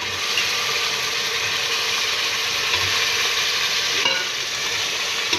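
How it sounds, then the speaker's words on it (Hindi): Pieces of meat (gosht) fry in a pot with browned onions and ginger-garlic paste, producing a loud, dense, continuous sizzle heard up close with no talking. "इसके बाद हम लोग इसमें गोश्त ऐड कर रहे हैं।"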